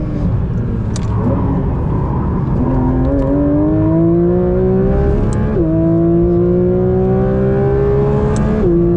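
A Porsche 992 GT3 RS on a race track, its engine pulling hard through the gears, rising wails broken by quick upshifts, loud and close with a steady rumble beneath and no talk.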